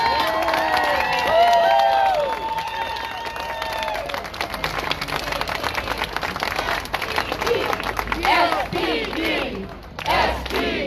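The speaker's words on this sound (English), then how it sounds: "Let's just give them a round of applause." A rally crowd applauds and cheers Seattle police officers, with loud mixed shouting and clapping that swells and continues throughout, and voices calling out over it.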